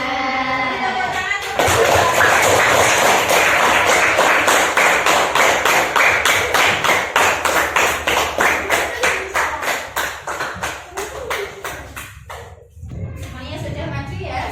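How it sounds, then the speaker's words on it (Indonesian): Classroom children clap their hands in a quick, steady rhythmic pattern for about ten seconds, loud and close, with brief voices before and after. "Dan Kita tepuk tangan."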